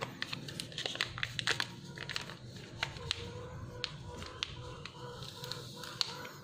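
Crinkling and tearing of a small packet of yeast being handled and opened in a home kitchen while making steamed pork buns, a run of close, quiet rustles and small taps with no talking.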